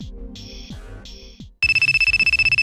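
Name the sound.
mobile phone ringing with incoming calls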